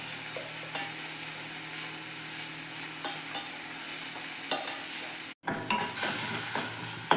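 Onion and tomato sautéing in a pan for fenugreek kuzhambu, a steady sizzle with scraping stirs throughout and a brief silent break near the end before the frying resumes.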